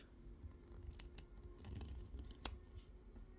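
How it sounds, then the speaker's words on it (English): Cutting a cable connector off for an RC boat trailer winch: a few faint snips from cutters or scissors over low background noise, with one sharper cut near the end, no talk. "These 2 connectors don't match, so let's cut that off."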